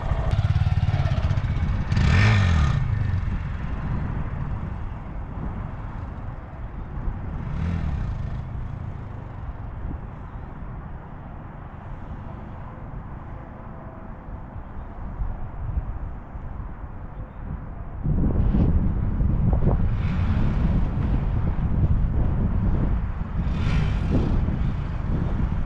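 A Honda Grom motorcycle revs during wheelie practice, its engine loud and close with throttle blips near the start, a long steady drone through the middle, and renewed, stronger revving in the last stretch, with wind buffeting the microphone.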